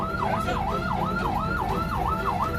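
An ambulance carrying a patient, caught in a traffic jam in Sukabumi, West Java, sounds its siren in a fast, regular wailing up-and-down sweep, loud and close over a low rumble of traffic.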